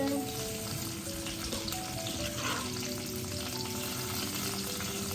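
Chopped onions frying steadily in the same pan just used to fry paneer, a continuous close, loud sizzle with faint stirring and no voices.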